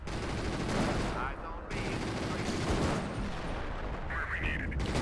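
Sustained gunfire at a Panzer III tank in the World War II strategy game Company of Heroes 2, dense crackling volleys and bursts filling the mix continuously, with players talking underneath.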